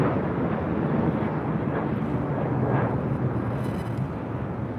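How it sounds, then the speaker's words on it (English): An American Airlines Boeing 737-800 departing LAX for Las Vegas gives off a loud, continuous jet roar that holds steady throughout, heard alone without talk. "This is American Airlines 2388 taking off to Las Vegas on a 737-800"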